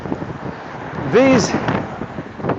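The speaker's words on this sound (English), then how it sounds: "wow, it's windy" Wind buffeting a microphone outdoors, a steady low rumble with a stronger gust in the middle, under a man's speech.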